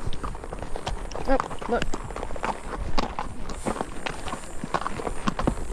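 Horses walking on a sandy wash trail, their hooves making irregular clip-clop thuds close by, with people talking over the steps.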